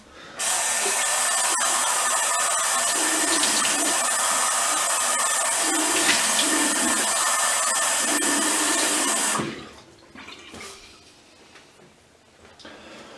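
Tap water runs in a loud, steady rush for about nine seconds to wet whiskers before a straight razor shave, then cuts off, leaving faint handling noise.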